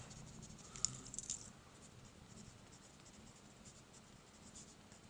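Pen writing on paper while working an engineering fluid mechanics problem, heard as faint scratchy strokes close to the microphone that fade into low room hiss.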